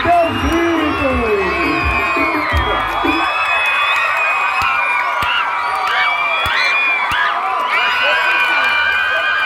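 Loud carnival bloco crowd in Conceição, Paraíba, shouting, whooping and cheering in a continuous roar, with an amplified voice and bursts of yells over the din.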